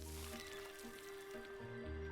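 Watering a plant egg in the video game Wanderstop: a soft, steady liquid pour with faint squishy drips and a low game hum beneath, quiet and continuous with no voice.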